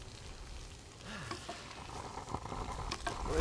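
Hamburger Helper noodles sizzle and fry in a pan while being stirred, a steady soft crackle with faint scraping that grows slightly louder toward the end.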